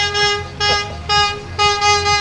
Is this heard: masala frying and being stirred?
no